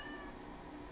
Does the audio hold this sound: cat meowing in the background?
yes